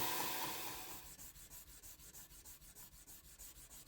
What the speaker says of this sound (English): Let's begin hand sanding the blade